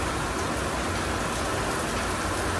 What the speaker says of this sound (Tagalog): ulan ng ganito